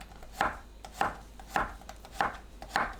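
A knife cuts through halved zucchini into half-centimetre slices on a cutting board, landing five evenly spaced crisp chops about every half second. The cuts are close and fairly quiet, and no one talks.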